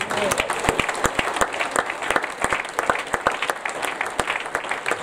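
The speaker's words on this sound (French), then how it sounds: "Est-ce qu'on peut acclamer le Seigneur" A church congregation at a wedding ceremony claps in quick, close, irregular bursts for several seconds, with a voice speaking over the applause.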